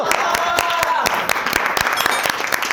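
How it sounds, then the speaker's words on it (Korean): Group applause and clapping from members of the K-pop group xikers celebrating a won game, dense bright claps throughout the short burst with lively background chatter mixed in. "자, 우리가 게임에 성공했어요, 여러분. 박수."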